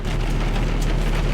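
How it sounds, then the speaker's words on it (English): Steady rain falls outdoors on a day out at a racetrack, a dense, continuous wash of patter with a low rumble underneath and no voices. "It's raining all day."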